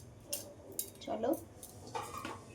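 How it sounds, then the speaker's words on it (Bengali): A lid is set onto a cooking pot of simmering bottle-gourd curry in a home kitchen, giving a few light metallic clinks and a short scrape close by. "এই ঢাকা দিয়ে দিলাম।"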